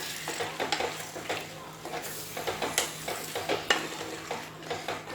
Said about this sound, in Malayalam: ചിക്കൻ ചേർത്ത് നന്നായിട്ടൊന്ന് യോജിപ്പിച്ച് കൊടുക്കുക.